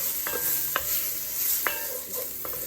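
Garlic sizzles in a hot pan, a steady hiss with a few sharp clinks and stirring scrapes of a utensil against the pan, no talk.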